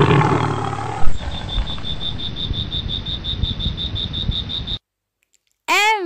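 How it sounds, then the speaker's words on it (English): A lion's roar, loud and close, rises over a steady chirping insect or frog-like background, then drops to silence before a short musical jingle. "L for lion."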